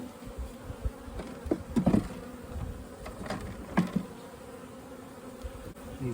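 Honeybees buzzing steadily around a hive after a shake-in, with faint, close wingbeat drones rising and falling over a quiet background.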